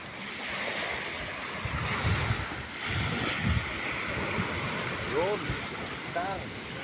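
Ocean surf washing onto a seashore in Guam, a steady broadband wash of breaking waves with some wind buffeting, while voices talk faintly over it.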